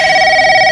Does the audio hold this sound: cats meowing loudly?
no